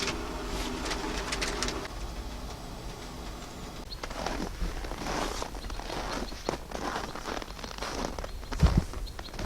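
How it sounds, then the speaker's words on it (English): Birds call and coo at sunrise in a winter forest campsite, a pigeon-like cooing among scattered chirps, with nearby footsteps and rustling of gear moving through the scene. "Actually hearing some birds chirping."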